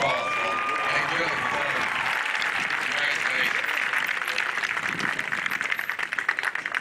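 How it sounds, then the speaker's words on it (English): Large commencement audience applauding in a sustained, dense round of clapping that holds steady throughout, with a faint voice or crowd murmur mixed underneath. "As they walk, let's give them another round of applause."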